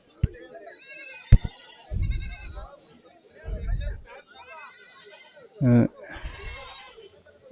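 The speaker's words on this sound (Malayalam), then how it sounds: "വണ്ടിക്കകത്ത് ഒരുപാട് ആടുകൾ ഇതായി നിൽക്കുന്നുണ്ട് വിൽപ്പനയ്ക്കായിട്ട് കൊണ്ടുവന്നതാണ് കറവയുള്ള ആടുകൾ ഒരുപാട് നിൽക്കുന്നുണ്ട്" Dairy goats for sale stand packed in a vehicle at a goat market, bleating repeatedly and loudly close by, with several wavering calls overlapping against low rumbling background noise.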